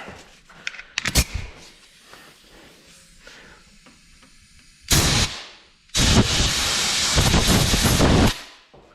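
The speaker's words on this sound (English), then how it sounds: "Gotta air gun that one again" Compressed-air gun blasting a Walker mower PTO gearbox during bearing and seal repair: a short hiss burst, a second blast near five seconds, then a long loud continuous blow of over two seconds, with quiet workshop clatter between.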